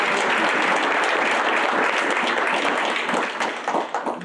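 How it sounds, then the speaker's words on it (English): A crowd of colleagues at a university research symposium launch breaks into steady, dense applause that stays loud and close before thinning toward the end. "another round of applause."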